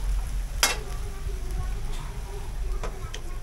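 Chicken pochero stirred in a cooking pot, with soft scraping and a few sharp clinks of the utensil against the pot over a low simmering bed of sound.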